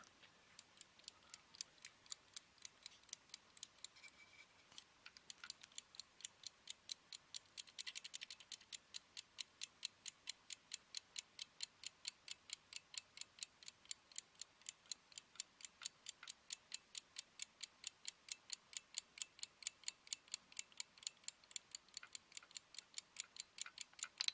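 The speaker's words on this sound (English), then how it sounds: "if I can get it ticking" A Sangamo Weston S355 spring reserve time switch ticks away with its escapement running, a fast, even, mechanical tick repeating steadily for many seconds, close up and fairly quiet, with no talk.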